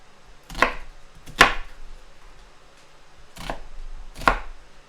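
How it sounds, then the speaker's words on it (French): A knife cuts an onion into strips on a board: four sharp, isolated chopping strikes spaced unevenly over a quiet background, with no talking. "je coupe l'oignon en deux"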